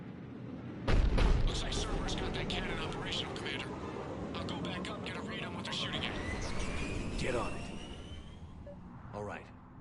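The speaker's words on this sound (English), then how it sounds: "Looks like Cerberus got that cannon operational, Commander." Heavy cannon blasts and gunfire from a Cerberus cannon in the video game Mass Effect 3 open with a loud, close boom, then rolling battle noise and aircraft-like whooshes, with voices heard underneath.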